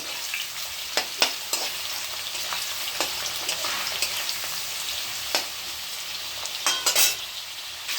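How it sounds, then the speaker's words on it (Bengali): Potatoes frying in a pan, a continuous close sizzle broken by scattered clicks and scrapes of a utensil stirring against the pan, with no talking. "আলু ভাজা করছি"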